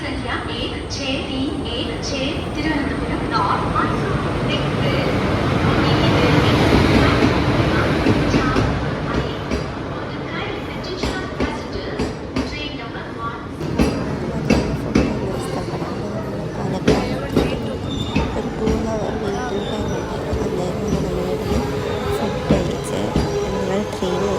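Passenger train running on rails from Palakkad, a steady rolling rumble with clickety-clack wheel beats that swell midway and continue throughout, close and fairly loud, with voices talking in the background.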